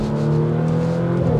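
Revving from a Porsche Macan GTS exhaust, a loud, steady engine drone with strong low harmonics, close and alone, though no distinct spitting crackle stands out.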